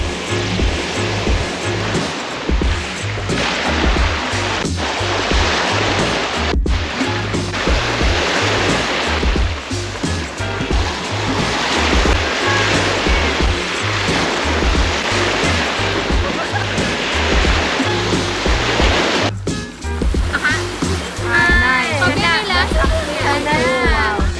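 Ocean waves at Moalboal, a loud continuous rush of surf and water close by, with a brief change near the end.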